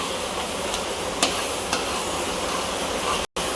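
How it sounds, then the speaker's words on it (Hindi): Pumpkin halwa with dry fruits being stirred and roasted in a pan, giving a steady sizzling hiss with a few faint spoon scrapes, close and uninterrupted by voices. "आपने अच्छे से इसकी इस तरह भुनाई करनी है"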